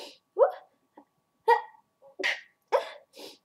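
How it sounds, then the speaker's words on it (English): Several short sharp sneezes in a row, close and fairly quiet, with gaps of silence between bursts, from a person working on a DIY American flag shorts project with fabric glue. "I keep sneezing"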